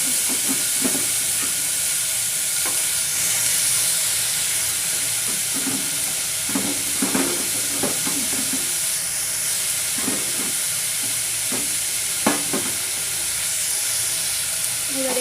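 Beetroot, carrot and other chopped vegetables stir-frying in a pan give a steady hiss with scattered scraping and stirring knocks, fairly close and continuous, with no talking.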